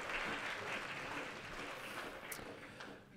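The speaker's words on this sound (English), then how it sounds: "Give yourself a round of applause for being here." Audience applause in a room during a big band jazz performance, a steady, fairly faint wash of clapping that holds evenly for a few seconds and thins slightly toward the end.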